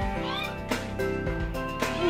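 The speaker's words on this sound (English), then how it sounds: "look what they do to the cat" Household cat meowing several times in short, close cries amid a noisy room, with people talking around it.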